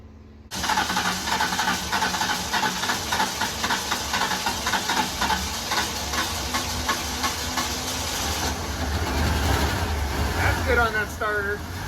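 A 1991 Ford LTD Crown Victoria, a fire department car, cranks over on its starter with a rapid rhythmic churning and then catches into a steady idling engine, loud and close, with no voices over it.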